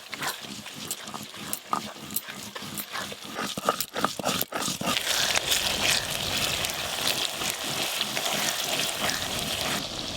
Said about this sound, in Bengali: আদা রসুন পেঁয়াজ একসঙ্গে কষবো